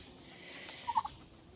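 Bronze-breasted turkeys gobbling, a short faint burst of three quick warbling calls, distant over a low background hiss.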